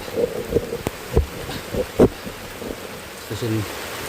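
Steady rain hisses in the background while someone talks intermittently, his voice closer and louder than the downpour.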